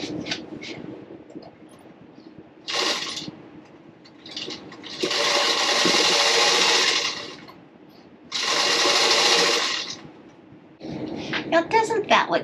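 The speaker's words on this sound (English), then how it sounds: "Can y'all see my sewing machine back here?" Sewing machine top stitching a t-shirt: two sustained bursts of rapid, whirring mechanical stitching separated by pauses, with a person talking before, between and after the runs.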